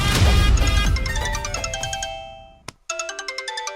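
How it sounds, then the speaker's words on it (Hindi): A mobile phone ringtone plays a bright, repeating melodic pattern, loud and close, then cuts off briefly before the tune starts again with rhythmic notes. "जब देखो फोन पे फोन।"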